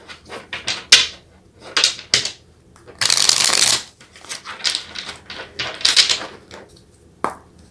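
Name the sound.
shuffling tarot cards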